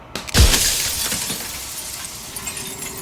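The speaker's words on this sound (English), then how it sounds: "another crack forms in another and another, turning the mirror into jagged shards of broken glass" Glass from a mirror shattering in the Slay the Princess video game: one loud, sharp crash near the start, followed by a long, bright tinkling decay of falling shards.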